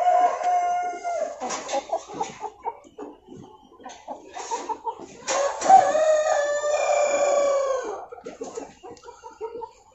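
Rhode Island Red chickens cluck and squawk close by on a poultry farm while a Rhode Island Red rooster lets out a loud, drawn-out crow in the middle, followed by more clucking.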